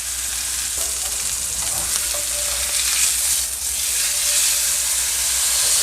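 Beef pot roast searing in a hot skillet gives a loud, steady sizzle with hissing steam and spitting, continuous and close.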